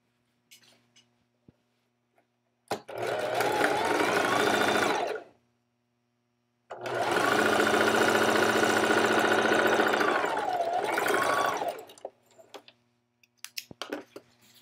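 Sewing machine joining yoke pieces for a Simplicity 8636 garment, two loud steady runs of stitching separated by a brief pause, with small handling clicks before and after.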